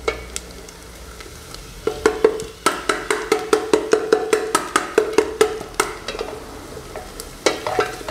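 Chicken filling fries in a pan while a spoon stirs and scrapes it, giving a steady sizzle with a run of regular clinking stirring strokes through the middle, close and moderately loud.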